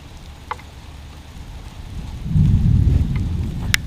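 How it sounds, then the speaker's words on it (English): Rain falling outdoors at a stump-pulling site, starting as a faint patter and swelling into a heavy, close rumbling downpour with a few sharp drops standing out. "It's starting to rain here pretty good"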